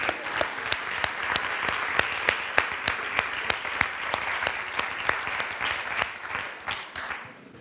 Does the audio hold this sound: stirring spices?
no